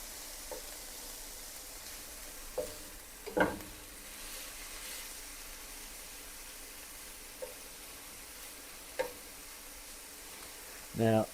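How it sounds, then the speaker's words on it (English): Scrambled eggs and bacon frying in bacon grease give a quiet, steady sizzle with a few brief louder pops and spatters scattered throughout. "In this case, we're going to fry it in bacon grease."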